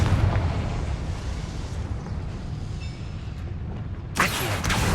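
A Confringo fire spell from Hogwarts Legacy bursts as a sustained roaring, rumbling blast, followed near the end by a sharper crackling flare, loud and with no talk over it.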